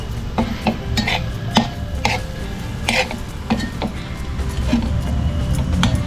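A sweet modak filling is stirred in a pot, producing steady scraping and clinking of the spoon against the metal, with repeated sharp ticks over a low continuous background, close and moderately loud.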